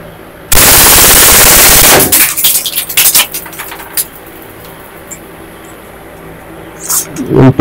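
A Glock 18C airsoft gas blowback pistol fires a loud, dense full-auto burst of about one and a half seconds, followed by clicking, handling and mechanical rattles, with a last loud clack near the end.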